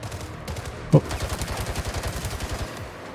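Rapid automatic gunfire rattles in a steady burst after a single sharp shot, loud and close, with a game-like, processed quality.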